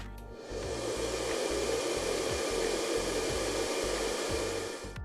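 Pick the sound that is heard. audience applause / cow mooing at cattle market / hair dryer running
hair dryer running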